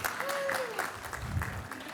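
Audience applause at an awards ceremony, a faint, continuous spread of clapping from a crowd, with a voice talking over it.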